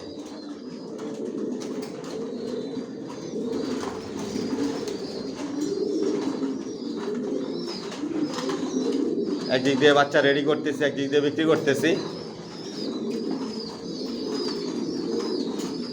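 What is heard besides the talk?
racer pigeons cooing in a loft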